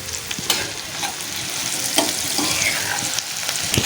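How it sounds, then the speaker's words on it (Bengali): Chopped onions with a little salt frying in hot oil in a pan for chicken tikka masala: close, steady sizzling crackle with occasional sharp clinks of stirring, continuous and moderately loud. "দিয়ে পেঁয়াজটাকে একটু লাল লাল করে ভেজে নেব।"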